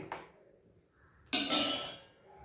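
A metal cooking pot clinks as freshly cooked taro-leaf curry is transferred into it in a home kitchen: a soft tap, then one sharp, bright clang that rings briefly and fades, with no talking.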